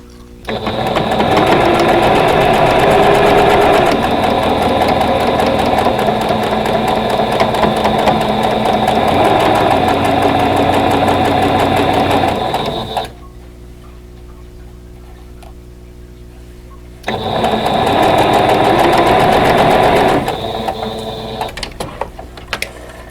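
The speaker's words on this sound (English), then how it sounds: "I'm going to sew unit 4 to the stem unit" Sewing machine stitching quilt block units for a vintage lily block: a loud, close, steady mechanical whir with fast ticking, running for long stretches, stopping for a few seconds, then starting again.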